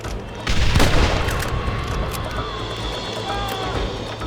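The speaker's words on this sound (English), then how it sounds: "They're shooting down on us!" Gunfire in the Red Dead Redemption video game, a heavy boom near the start followed by a rumbling, echoing firefight with shots raining down from a cliff top in Mexico.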